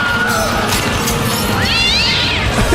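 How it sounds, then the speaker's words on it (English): A cat lets out a loud, drawn-out rising meow in the middle of a noisy musical stage performance, ringing clearly above the dense backing sound. "What is there a cat? What is this?"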